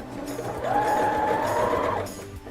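A sewing machine runs in one steady two-second burst, stitching the bodice of a small Blythe doll dress onto its ruffled skirt, close and alone with no voices.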